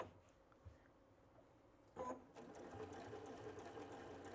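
A Baby Lock Sashiko sewing machine top stitching a tote bag, heard close as a steady mechanical whir that swells to full running speed partway through and keeps going evenly.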